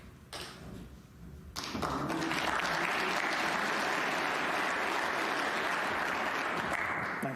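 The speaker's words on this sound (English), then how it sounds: "there was a bit of applause there for Stan Moody on table 2" At a professional snooker tournament, an arena audience bursts into applause after a short quiet stretch, a broad sustained wash of clapping that stays loud and even to the end.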